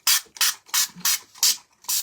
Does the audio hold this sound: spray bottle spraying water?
yes